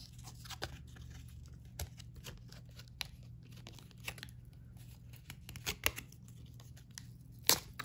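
Vintage clip-on earrings are pulled off a jewelry display card, giving faint, close, scattered crinkles, scrapes and small clicks over a quiet steady hum, with a sharper snap near the end.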